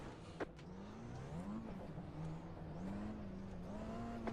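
A race car in the iRacing sim approaches and passes on the left, a steady droning engine whine with shifting pitch that holds throughout at moderate level.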